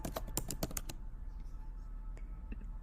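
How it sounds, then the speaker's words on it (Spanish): Typing on a computer keyboard while entering a bank name into an online form: a quick burst of distinct key clicks in the first second, then a few sparse isolated taps against a quiet background. "Aquí vamos a digitar el nombre de nuestro banco"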